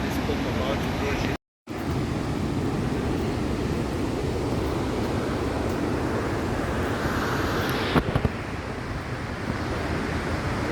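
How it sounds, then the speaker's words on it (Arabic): Victoria Falls roaring from a distance as a broad, unbroken rush of water, mixed with gusty wind buffeting the microphone and a brief dropout partway through. "Those are the main falls from the distance."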